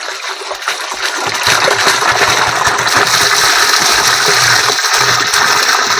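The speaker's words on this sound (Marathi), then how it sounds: "उरलेलं जे पाणी आहे हे पाणी आपण ह्यामध्ये टाकून देतोय" Water pours into a homemade humic acid mixture, a continuous gushing splash that swells louder after the first second and keeps going steadily.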